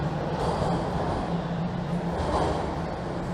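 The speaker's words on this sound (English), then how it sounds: "But I do see a train rolling in" A Toronto TTC subway train rolls into a station, giving a continuous, close, broadband rumble and rolling noise that holds steady and loud for the whole stretch, with no voices.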